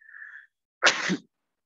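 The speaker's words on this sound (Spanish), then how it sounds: "voy a estornudar." A single loud, close sneeze bursts out during a physiotherapy lecture on gastrointestinal pathology, preceded by a brief faint steady tone and followed by silence.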